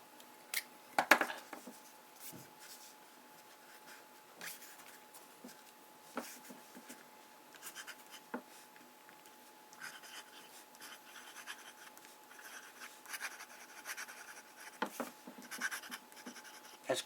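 A fine pen writes on plain copier paper in quiet, intermittent scratchy strokes, with occasional small taps as the nib lifts and lands.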